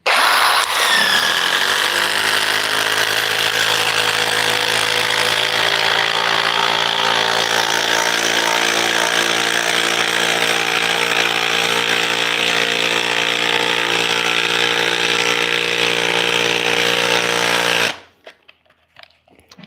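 A Ridgid Stealth Force impact driver drives lag screws, giving a loud, steady, close whirring hum that holds for about eighteen seconds and then cuts off abruptly, followed by quiet.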